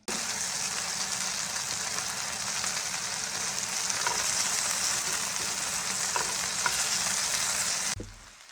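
Goat meat browning with ginger in a pot gives a steady, loud sizzle that runs unbroken for about eight seconds, with an occasional stir, before cutting off abruptly.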